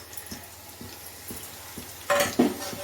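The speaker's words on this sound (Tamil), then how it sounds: "இப்போ இது வந்து நல்லா நம்ம வதக்கி விடணும் வெங்காயம் வந்து நல்லா ப்ரௌனாக வதங்கணும்" Onions for mutton biryani frying in a pan, a low steady sizzle with soft stirring scrapes and a louder clatter of the utensil near the end, close by and with no voices.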